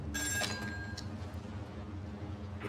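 A telephone rings in the horror video game Still Wakes the Deep, set on an offshore oil rig. It gives one bright electronic ring near the start and a weaker second ring, over a low droning machinery hum.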